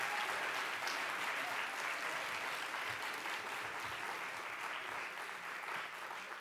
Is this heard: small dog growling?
no